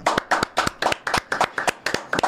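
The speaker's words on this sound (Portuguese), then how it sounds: "uma salva de palmas para o Danessa" Crisp, evenly spaced hand claps, about eleven in a steady rhythm, ring out close and clear in a podcast studio, with no voices over them.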